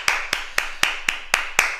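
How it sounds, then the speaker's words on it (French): Seven crisp, evenly spaced claps in quick unison, about four per second, loud and close with no talk. "On peut s'applaudir, bravo!"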